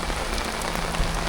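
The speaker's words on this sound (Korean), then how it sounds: "그런데 갑자기 비가 오기 시작했습니다." Steady rain falls at a campsite, a dense even hiss of drops hitting surfaces that fills the whole moment without a break and with no voices.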